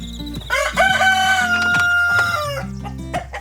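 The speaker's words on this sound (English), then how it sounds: "these chickens should be out there too" A rooster crows loudly and close by, one long drawn-out call, with hens clucking and low murmuring around it.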